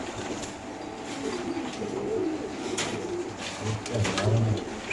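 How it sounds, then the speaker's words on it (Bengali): Domestic pigeons at a seller's coop give soft, repeated throaty coos close by, over a low background rumble with faint voices. "এটা কি কবুতর?"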